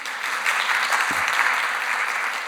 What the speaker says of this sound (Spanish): Aplausos, si quieren aplaudir, por favor.